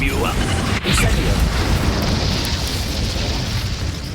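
A Confringo fire spell from Hogwarts Legacy bursts with a loud, sustained roaring blast that fills the clip, with a sharp crack near the start. A voice is briefly heard over it.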